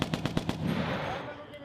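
Marine Corps machine gun at a live-fire range in South Korea: a quick string of sharp, evenly spaced shots opens a full burst, then gives way to a dense, loud wash of continuous gunfire and echo.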